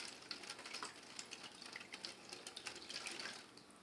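Water runs in a small homemade classroom waterfall, a soft, steady trickling and splashing with scattered tiny drips, faint and continuous without voices.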